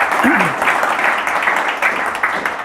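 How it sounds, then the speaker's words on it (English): An audience applauds to welcome Eben Upton, CBE, at a talk, steady dense clapping filling the room throughout, with a brief voice surfacing near the start. "If you'd like to welcome him, we should give him a round of applause."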